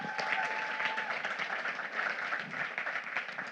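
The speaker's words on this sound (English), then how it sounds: "Give all of yourselves a round of applause." A conference audience gives a round of applause, steady crowd clapping at moderate level with faint voices mixed in.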